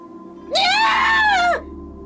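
A dramatized scream sound effect in a narrated drama, one loud sustained high-pitched wail lasting about a second, rising abruptly and cutting off, standing alone over a quiet low background hum.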